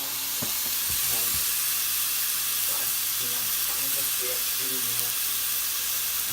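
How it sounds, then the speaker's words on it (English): Meat sizzling in a heated pan, a steady loud frying hiss throughout with a few faint clinks and stirring sounds underneath. "Put your meat in the pan here, which is lovely and all heated now."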